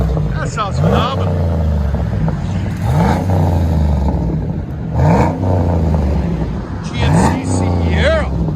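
A Chevy Silverado/GMC Sierra 6.2L V8 on straight pipes gives loud, deep revs that swell and fall about four times over a steady rumbling idle, close by.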